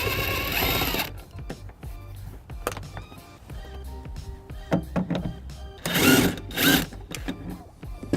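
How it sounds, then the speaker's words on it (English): A ratchet removes a side panel bolt on a 2002 Pontiac Aztek during a trailer wiring install, heard as close, quiet clicking in uneven bursts with louder metallic rattles near the end. "First, I'll be removing the side panels, taking off the bolt."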